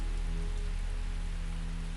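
Steady rain falling on a surface, a continuous even patter of drops throughout, soft and unbroken with no voices.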